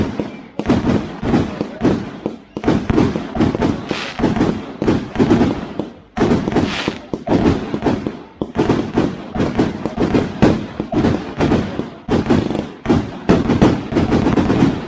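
Panta fireworks burst at night at a fireworks fan meet, a loud, rapid string of cracks and bangs in steady volleys, with voices faintly beneath.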